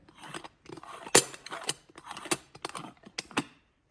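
The top of a Bialetti Moka Express stovetop coffee maker is twisted back onto its aluminum base. Close, irregular metallic scrapes, creaks and clicks come in short bursts over about four seconds.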